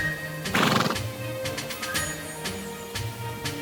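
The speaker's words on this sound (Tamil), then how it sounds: "டாட்டான்யான் ரொம்ப தைரியமா அவரோட குதிரை டீட்டோன் மேல ஏறி போனாரு" A horse gives a loud, close whinny, followed by rhythmic clip-clop hoofbeats from riding that continue to the end.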